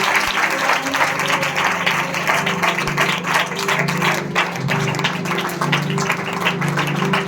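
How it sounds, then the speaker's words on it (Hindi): A large congregation at a Christian prayer gathering applauds loudly and steadily for the Lord, a dense continuous wash of many hands clapping that fills the whole stretch without pause. "तो फिर एक बार हम जोर से प्रभु के लिए ताली बजाएं।"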